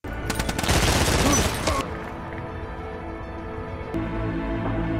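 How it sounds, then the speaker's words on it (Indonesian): Gunfire erupts in an action film scene as a loud, dense burst of rapid automatic shots for nearly two seconds, then falls away to quieter ambience with a single sharp crack before a low rumble. "si Botak ditembak anak buahnya Jenderal Yusif."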